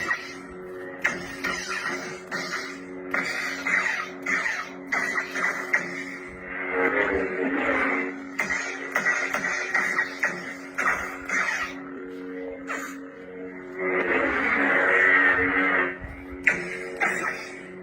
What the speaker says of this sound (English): that's sort of a delayed, unstable ignition I'm using